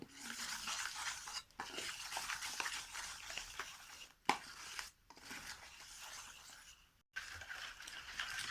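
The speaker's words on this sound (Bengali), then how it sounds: "এবার আমি এটাকে একটা সুন্দরভাবে ব্যাটার বানিয়ে নেব ঘষে ঘষে" Batter for cauliflower chops being stirred and rubbed in a bowl, a continuous close scraping and swishing broken by a few short pauses and one sharp knock, fairly quiet and with no talking.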